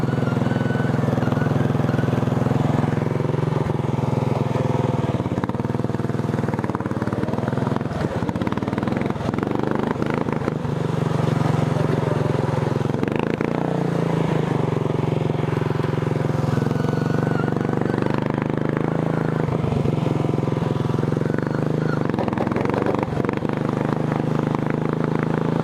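Racing lawn tractor engine roaring loud and close throughout a test ride, steady droning note with revving surges and rattling clatter, no talk over it.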